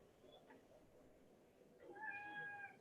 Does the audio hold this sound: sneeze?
no